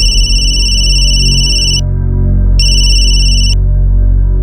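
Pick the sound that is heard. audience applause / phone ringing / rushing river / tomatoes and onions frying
phone ringing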